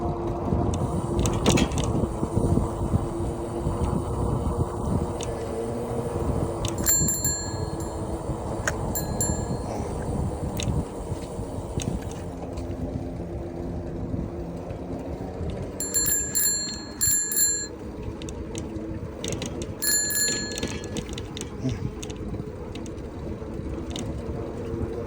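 Bicycle bell on a bike ridden along the Fort Collins and Loveland trails, several short bright rings in separate bursts over continuous riding and wind noise.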